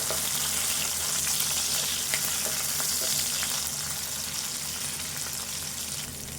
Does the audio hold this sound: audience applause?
no